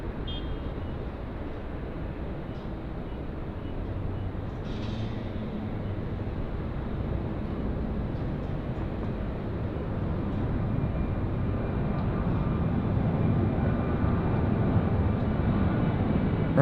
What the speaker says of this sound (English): Righto, United 870 rolling now, runway 34 left, San Francisco service on the lovely 787.